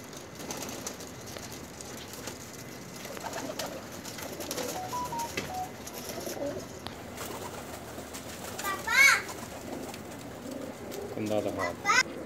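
A paired couple of domestic pigeons kept by a fancier, cooing softly with short warbling calls near the end over a faint background, while someone speaks quietly through much of it.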